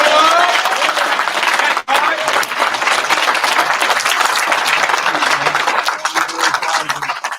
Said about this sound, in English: Can we give him a crazy round of applause, please?